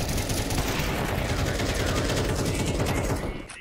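Dense, rapid gunfire from the video game Counter-Strike 2, a continuous rattling burst at steady loudness that cuts off abruptly near the end.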